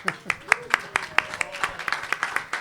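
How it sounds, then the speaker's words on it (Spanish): Steady, brisk hand clapping from a small audience at a club, a dense rhythmic run of claps that stays moderately loud throughout. "un fuerte aplauso tiene Geraldo"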